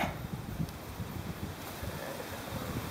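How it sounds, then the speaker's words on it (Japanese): Wind blows outdoors as a typhoon passes nearby, a steady, fairly quiet rushing noise with some buffeting against the microphone and no voices. "風は結構吹いてますね"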